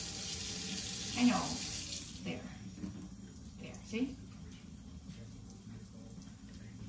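Tap water runs into a sink as a steady wash under the whole stretch, with people talking over it and a couple of louder knocks or splashes.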